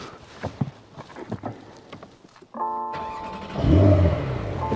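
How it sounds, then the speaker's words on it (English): A Porsche 911 base model engine cranks and catches after a few light footsteps and clicks, then settles into a loud, steady idle with a brief rise in revs close by. "Let me actually start this car."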